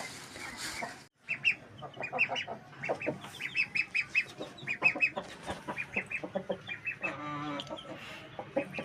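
Chickens cluck and crow in short, repeated bursts inside a mud-floored coop, the calls close and fairly loud, overlapping with scratching birds and no talk.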